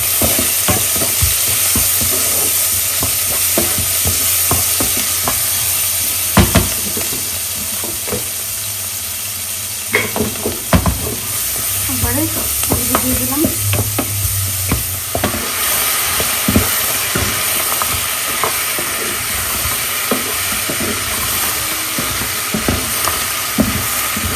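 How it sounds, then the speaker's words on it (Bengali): Spices sautéing and being stirred in a little oil in a home kitchen, a loud continuous sizzle and hiss punctuated by repeated scrapes and knocks of a spoon against the pan. "মশলা কষানো শেষ"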